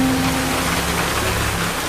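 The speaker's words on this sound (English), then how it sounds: "Should we get out of the rain, guys? It's absolutely pouring." Heavy rain pouring down outdoors at an El Salvador prison, a steady, dense hiss of drops drumming on surfaces with no talk over it.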